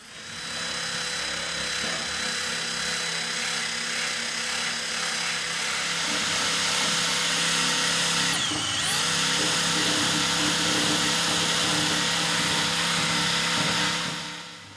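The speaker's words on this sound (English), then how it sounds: "let's switch over to the flat wire brush, see how that works out" Flat wire brush on a power tool grinding paint off an aluminum jon boat, a steady high whine with a dense scraping hiss running continuously, with one brief dip in pitch as it bites, close and loud.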